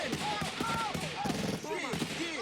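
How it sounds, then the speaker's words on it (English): Gunfire effects within a DJ intro edit track, with rapid bursts of shots layered over music with sweeping, whistling tones, all fairly loud and continuous. "I can get right to the part where the gunfire kicks in"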